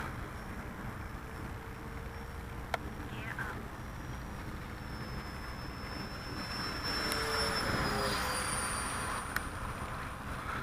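A Freewing Rebel V2 RC jet plane flies just after a grass-field takeoff, its steady ducted-fan whine holding level and growing a little louder toward the end as it passes.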